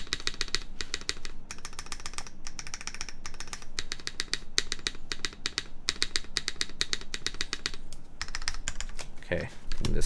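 Keys clack steadily on a QK Alice mechanical keyboard with an FR4 plate, a dense run of crisp close-up keystrokes in short bursts, with brief pauses between them and a final louder rattle.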